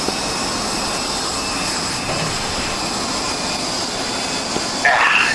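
A jet aircraft engine in the DCS flight simulator game roars as a steady, loud, broadband whine and rush that runs throughout, with faint radio voices beneath and a brief high burst near the end.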